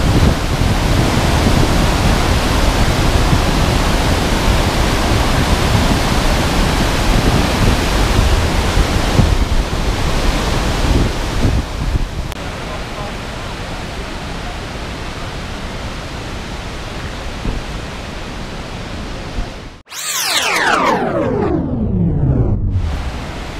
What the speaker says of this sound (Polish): Znajdujemy się nad wodospadem Lattefontein.